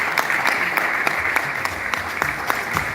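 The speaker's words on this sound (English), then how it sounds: "Yes, let's applaud Hepzibah for coming." An audience at a Shell LiveWIRE programme graduation in Nigeria applauds a guest, giving a sustained wash of clapping with a few sharper claps standing out at irregular intervals.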